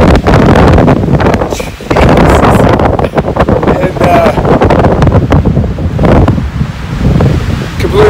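Strong wind buffets the microphone in a continuous loud roar across open hill country, with brief dips and gusts throughout.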